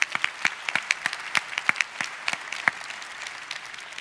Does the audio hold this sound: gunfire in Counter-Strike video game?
no